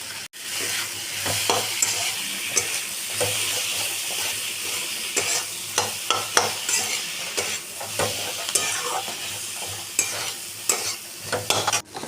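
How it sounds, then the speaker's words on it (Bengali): Ground spices with salt, turmeric, chili, cumin and coriander stir-fried in a pan, giving a loud, close, steady sizzle broken by repeated scraping and stirring strokes with occasional clinks. Nobody talks over it. "খুব ভালো করে মশলাটাকে কষিয়ে নেব।"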